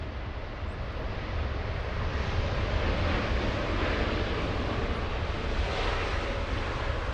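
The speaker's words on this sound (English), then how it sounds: "Aero Mexico, a departure on runway 25," An Aeromexico airliner departing runway 24 left at Los Angeles International Airport makes a loud, steady broadband jet roar that holds evenly from start to finish, with no voices over it.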